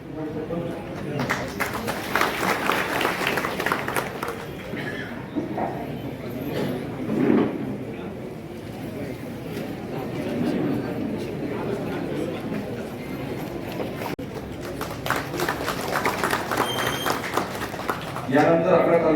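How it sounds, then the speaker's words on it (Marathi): An audience claps to welcome a revenue circle officer at a government revenue-department outreach camp in Yavat, Daund, with a dense, steady wash of applause lasting throughout and crowd chatter mixed in. "सर्वांनी टाळ्या वाजवून स्वागत करायचं आहे"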